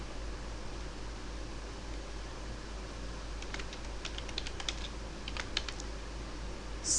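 Soft, quick keystrokes on a computer keyboard typing a magazine cover story title, a short run of light clicks over a steady background hiss.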